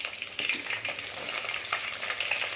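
About fifty grams of peeled small onions go into hot oil with fenugreek, sizzling and crackling briskly up close while being stirred, with no voices.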